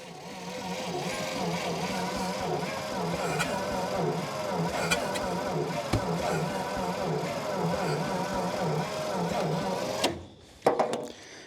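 A buried 1952 Dodge Power Wagon engine cranks over sluggishly with its coil disconnected, a rhythmic, labouring starter churn that runs steadily for about ten seconds before stopping, followed by a couple of clunks.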